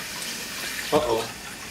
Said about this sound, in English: water started squirting out all over the place